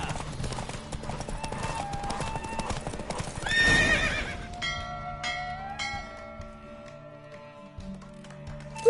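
Horse hooves clip-clop in quick galloping rhythm at close range, with a horse whinnying partway through and a faint bell ringing; a voice is heard in the background.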